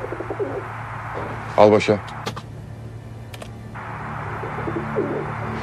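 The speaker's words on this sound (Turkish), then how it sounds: "Güvercin bu." Pigeon cooing outdoors, a short burst of rolling coos in the middle with a few chirps, heard over a steady low hum while people talk before and after.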